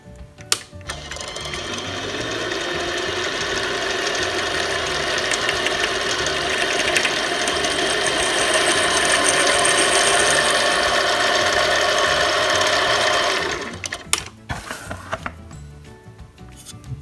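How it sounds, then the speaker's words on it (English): Central Machinery lathe from Harbor Freight drilling a hole with a 3/16 bit, a loud steady mechanical whir and rattle held for about thirteen seconds before spinning down, followed by a few clunks. "we're going to clean it up with the 3/16 bit again."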